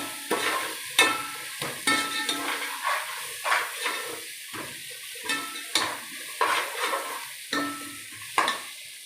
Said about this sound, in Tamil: இப்போ இதையும் நல்லா கிளறி நல்லா அந்த பச்சை வாசனை போகிற வரைக்கும் இதை நம்ம நல்லா வதக்கிட்டே இருக்கலாம்